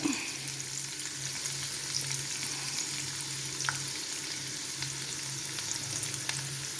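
Ginger, garlic and curry leaves fry in hot oil for beef pickle, a steady close sizzle with a faint low hum beneath and occasional soft stirring clicks, no voices.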